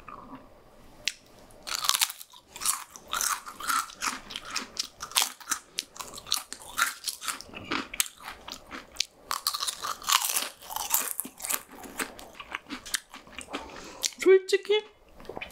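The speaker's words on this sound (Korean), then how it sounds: "만두 과자를 한번 먹어볼게요" Close, crisp crunching and chewing of a crunchy dumpling-flavored Korean snack, with loud bites followed by steady mastication.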